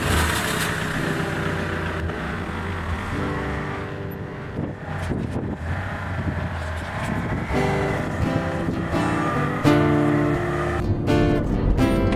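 A car engine hums steadily nearby, a continuous mid-level drone with shifting tones and light road noise, alone without talk, before a drive to Epping Forest.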